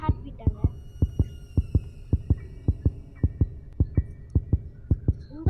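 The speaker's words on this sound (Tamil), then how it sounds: "இந்த பையன் ஹார்ட் பீட்டா இல்லை ஏன் ஹார்ட் பீட்டாங்க?" Heartbeat effect in the video game Granny Car Escape, a steady, loud, thumping pulse of about seventeen beats over a constant low hum, with no talk.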